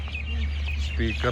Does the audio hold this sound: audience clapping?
no